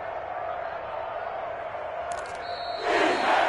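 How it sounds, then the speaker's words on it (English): Home crowd at a football game, a steady broad murmur of many voices that swells into louder cheering and applause near the end. "And the home crowd applauding."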